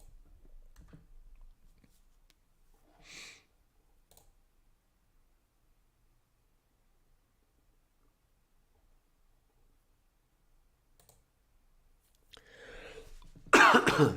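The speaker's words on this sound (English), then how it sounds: "Sorry, I still have this stupid cough" After a long near-silence with a few faint clicks and a brief throat noise, a loud, dry cough bursts out close by at the end.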